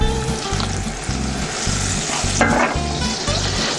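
Butter and olive oil sizzle steadily in a pan at the start of a simple risotto, a continuous close frying hiss with a brief scrape near the middle and no talking.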